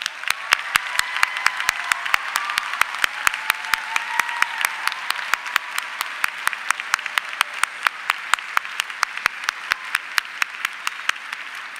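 A standing graduation audience at a Dallas high school ceremony applauds the graduates' parents and family, producing a long, loud, rhythmic wave of clapping that carries on steadily, with a few sharper claps cutting through the crowd's wash.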